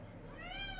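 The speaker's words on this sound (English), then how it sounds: "Could you guys hear my cat?" A house cat meows once, a short rising-and-falling call heard faintly in the background of a quiet room.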